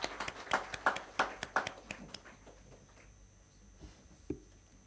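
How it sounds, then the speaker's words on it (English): Scattered hand claps from a small audience at a professional audit panel event, a handful of sharp claps in the first two seconds that thin out and fade, with a faint lone clap near the end. "Big round of applause."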